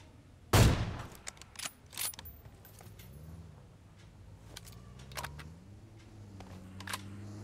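An AWM sniper rifle fires in PUBG Mobile, one sharp loud crack near the start followed by softer scattered clicks and distant game noises.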